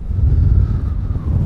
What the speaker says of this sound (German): ist ein bisschen windig